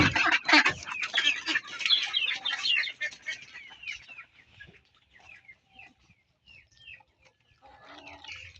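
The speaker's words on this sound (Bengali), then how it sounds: "এই যে আমার হাঁসগুলো" Farm ducks quacking and clucking noisily in a rainy yard, a dense burst of calls at first that thins to scattered single calls, fairly close.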